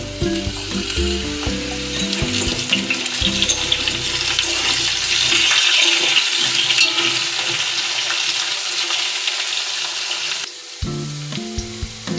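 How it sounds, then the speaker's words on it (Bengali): Chunks of pumpkin and potato sizzle and crackle loudly in hot oil, a continuous frying hiss with occasional stirring clatter. "কুমড়োটাও আলুর সাথে লাল করে ভেজে নিচ্ছি।"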